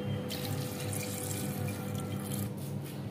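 Water pours steadily from a tap onto chickpeas soaked overnight, a continuous close splashing stream with no pauses.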